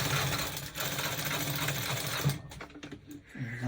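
Close, steady whirring of a sewing machine stitching down a bodice facing for about two seconds, then a few short stop-start bursts as it slows.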